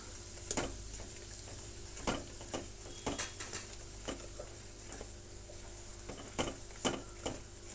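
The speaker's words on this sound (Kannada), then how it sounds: "ಸುಮ್ಮನೆ ಒಂದು 7-8 ಸೆಕೆಂಡು ಆ ರೀತಿ ಫ್ರೈ ಮಾಡಿಕೊಂಡ್ರೆ ಸಾಕು." Ground mustard and fenugreek powder frying in a pan, a soft steady sizzle broken by sharp scraping clicks of a spoon stirring against the metal at an irregular pace.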